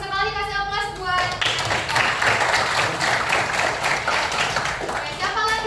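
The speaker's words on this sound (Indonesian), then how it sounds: "Oke, bagus sekali, kasih aplaus buat." Classroom applause for a student during a Year 11 geography lesson: a burst of many hands clapping together, loud and steady for several seconds, with a teacher's voice heard before and at the end.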